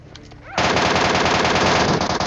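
Rapid MK14 rifle fire in PUBG Mobile, a dense loud burst of gunshots that starts abruptly after a quiet moment and keeps going steadily to the end.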